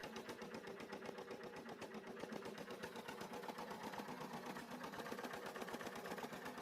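A vintage diesel engine with a large flywheel runs steadily at low speed, a continuous mechanical chugging with rapid regular beats at constant loudness and no voices.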